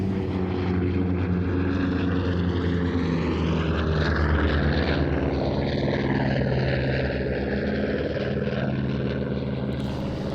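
An F4U Corsair piston-engine propeller fighter makes a display pass at the ANTIDOTUM Airshow in Leszno, its loud engine drone rising and shifting in pitch as it sweeps by.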